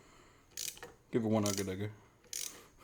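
A ratchet tightens the battery hold-down in a Nissan 350Z engine bay, with two short bursts of close clicking separated by a person speaking.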